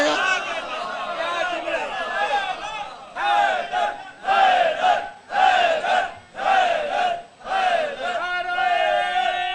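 A majlis congregation chants a slogan back in unison, loud massed voices rising in repeated rhythmic bursts that swell and break off several times, with a single sustained voice carrying the close.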